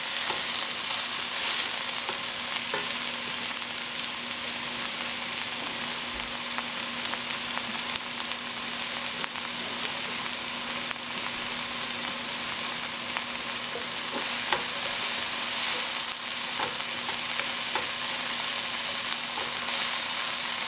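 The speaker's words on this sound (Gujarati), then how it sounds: "અને એને આપણે જરાક તળશું" Ingredients for chicken à la king softening in a hot pan, a steady, close sizzle of frying with occasional stirring scrapes, continuing evenly without any talk.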